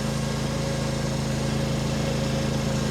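A Derette DRT450 mini skid steer's small engine runs steadily at high revs, a loud, continuous droning hum with a buzzing tone and no pauses.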